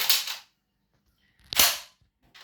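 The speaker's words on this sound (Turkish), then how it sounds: "Fişek çağırma düğmesi çağırdı. bıraktı." Shell release button on a Castello Mod 101 Barak shotgun, a Turkish shotgun with a varnished walnut stock, clicking sharply twice with a pause between, plus a brief third click at the end; no talking.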